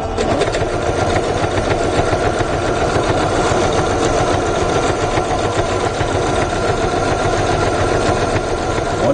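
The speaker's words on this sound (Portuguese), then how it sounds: "Então aqui eu vou costurar as laterais da minha bolsa." Sewing machine running continuously as it stitches the side seams of a fabric handbag, a steady, fast, close mechanical whir and rapid needle chatter lasting throughout with no pauses or talk.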